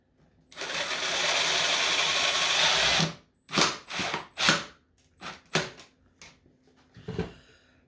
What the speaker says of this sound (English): So I'm going to put one screw in off to the side.